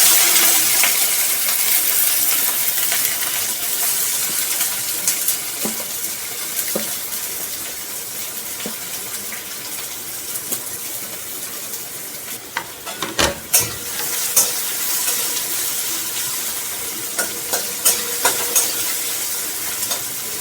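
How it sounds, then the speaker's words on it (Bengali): Onions are added gradually to hot oil for Bengali fish chop, producing a continuous broadband sizzle with occasional stirring clinks and taps toward the end. "এবার পেঁয়াজগুলোকে আস্তে আস্তে দিয়ে দিচ্ছি।"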